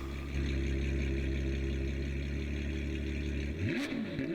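A Ferrari's loud, steady engine drone holds with rich harmonics, then near the end the pitch swoops and dips as the exhaust is blipped and rev notes shift.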